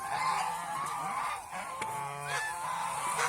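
White geese on a farm give a run of short, nasal honks, several calls overlapping and fairly close, with quiet gaps in between.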